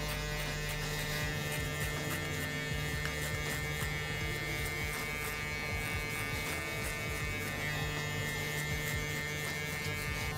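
Electric hair clippers with the guard lever open buzz steadily and continuously while trimming a fade on a man's head, a close, even motor hum with no talking.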